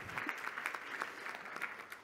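Faint applause from an audience at a European energy conference opening, a thin wash of clapping lasting a couple of seconds with no talking.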